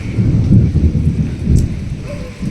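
Heavy rain pours down steadily with rolling thunder rumbling low and loud throughout, a dense, continuous roar close by with no voices.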